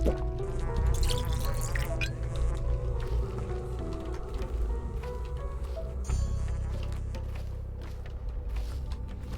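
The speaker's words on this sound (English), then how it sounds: "Let's go fill up that water bottle." Water bottle being filled in the game Pathologic 2, a steady trickling pour with dripping splashes under a continuous low game ambience, moderately loud and close.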